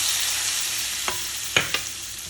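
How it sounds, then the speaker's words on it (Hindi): Cumin, panch phoron and dried red chilli tempering sizzles in hot oil for an Odia dalma, with a steady broadband hiss and a few sharp pops and spoon scrapes near the end. "यहाँ पे चौंक हो गया है, बस चौंक लगा देती हूँ"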